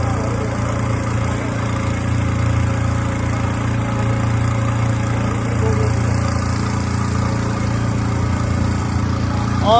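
A boat engine idles on the Narmada river while passengers disembark, a loud continuous low rumble with steady vibration that stays constant throughout, with faint background activity.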